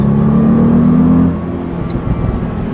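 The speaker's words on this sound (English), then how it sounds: "You get that like rumbling kind of crackle when you lift off." A 2017 Audi S8 Plus engine drones loudly under load, then the throttle lifts and the exhaust drops into a low, burbling rumble with faint crackle.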